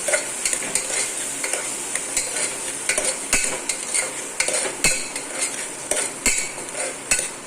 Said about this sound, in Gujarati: ટમેટાને પણ આપણે તેલમાં ફેરવશું એકદમ।